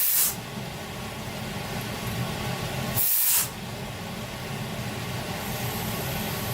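Regulated compressed air hisses from a lock line nozzle at a fossil preparation lab bench, with two short louder blasts over a constant background of machine hum and airy hiss.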